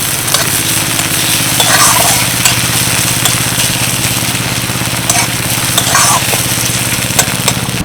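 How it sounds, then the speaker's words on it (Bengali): Chopped onion, grated ginger-garlic and chopped green chili fry lightly in oil in a wok, giving a close, continuous sizzling hiss with a low rumbling undertone and occasional stirring scrapes throughout. "এই তেলের মধ্যে দিয়ে দিচ্ছি অল্প একটু পেঁয়াজ কুচি দিয়ে দিচ্ছি গ্রেট করা আদা রসুন আর দিচ্ছি কাঁচা লঙ্কা কুচি হালকা করে একটু ভেজে নেবো"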